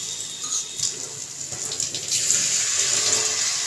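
Water is poured from a vessel into a cooking pot in a home kitchen, a steady splashing pour that grows fuller and louder partway through, with no talking.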